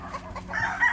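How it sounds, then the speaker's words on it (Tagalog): Hens and chickens at a small farm clucking briefly and faintly, a soft burst of fowl calls lasting under a second. "So may mga manok na doon, may mga inahin na"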